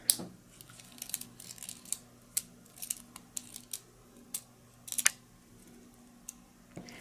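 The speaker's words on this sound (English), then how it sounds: "So the first thing that I'm going to do is I'm going to unwrap the tubing." Insulin infusion set tubing being unwrapped from its packaging, giving faint, sharp crinkles and plastic ticks in an irregular series in a quiet room, with no talk.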